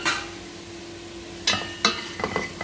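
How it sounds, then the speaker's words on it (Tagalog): A spoon scraping through rice, tilapia and spices in a pan, a few separate stirring strokes and light clinks against the pan with a faint sizzle between them, close and alone. "Halo-haloin lang po guys ha."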